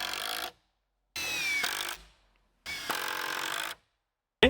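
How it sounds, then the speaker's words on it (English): A power drill drives screws through the outside into a framing block for a 10-foot-tall shop wall, in three bursts of steady whirring separated by pauses, close and loud, with a brief start of a fourth at the end. "I'm just going to use some screws from the outside to get that attached."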